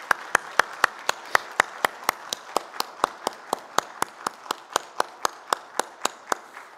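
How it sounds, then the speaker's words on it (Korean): A church congregation claps loudly together in steady unison during a Sunday worship service, a crisp even rhythm of roughly four claps per second that continues without pause. "우리 다시 한번 박수 한번 보내주세요."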